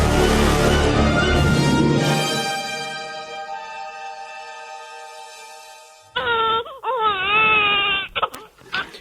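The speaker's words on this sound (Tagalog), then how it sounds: "Parang may umiiyak na sanggol sa loob." An infant cries and wails from inside a house at night, the cry rising and wavering in long sobs after a sustained droning tone fades out, loud and close.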